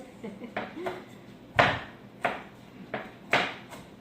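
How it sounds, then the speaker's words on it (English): Carrots are chopped for ham and potato soup with a knife on a cutting board, several distinct thunks at an uneven pace, close and fairly loud in a home kitchen. "Now I'm going to chop up some of my carrots."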